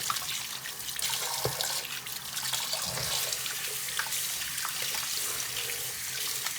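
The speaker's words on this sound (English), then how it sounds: "The water is just flowing so easily, and I'm so happy." Water gushes steadily from a kitchen tap into a sink, a close, continuous hissing splash with small spatters and clunks, no talk over it.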